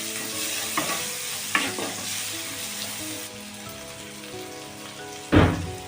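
Chopped onions frying lightly in a pan for a Bengali sheem recipe, a steady crackling sizzle close by with a few spoon scrapes and one loud stirring clatter near the end.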